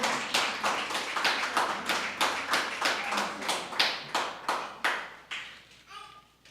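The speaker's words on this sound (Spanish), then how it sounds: "Denle un aplauso al Dios vivo si usted lo quiere" A church congregation claps together in a slow, regular rhythm, each clap sharp and evenly spaced for several seconds before stopping, with a brief murmur at the end.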